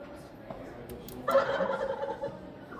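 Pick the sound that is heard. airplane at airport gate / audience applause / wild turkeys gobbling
wild turkeys gobbling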